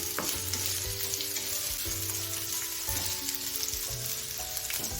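Onions fry in masala over low heat for a kat vada curry, a steady close sizzle with rhythmic scraping strokes of a spatula against the pan roughly once a second.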